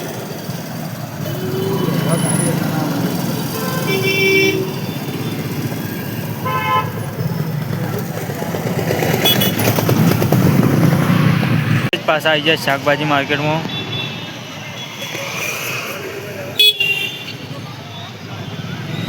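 Busy city traffic near a vegetable market, with engines rumbling and car horns tooting repeatedly, several sharp honks standing out close by, while a person talks throughout.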